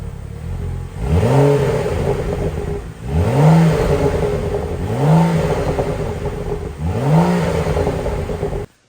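A BMW F30 335i with a resonator-deleted exhaust revs four times in a steady pattern, each loud rising blip falling back to idle, heard up close with no talking.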